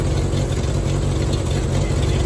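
A Renault 10 with the S engine runs steadily close by, a loud, rough low-pitched idle rumble that holds even throughout with no revving.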